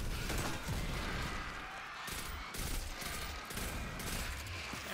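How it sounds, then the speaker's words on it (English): Weapon fire from a grenade launcher in the shooter game Destiny 2, a dense, continuous stretch of loud, crackling blasts and thuds that runs the whole time with no talking over it. "it's a grenade launcher"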